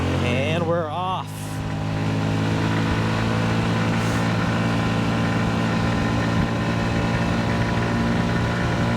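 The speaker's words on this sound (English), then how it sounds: "such a smooth running engine" A Honda Ruckus scooter engine runs steadily while being ridden, a smooth continuous drone with a constant hum and wind rush underneath, and a voice speaks briefly at the start.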